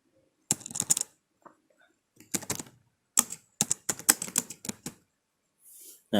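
Quick bursts of typing on a computer keyboard, clusters of crisp key clicks separated by short pauses, close and clear with no talking.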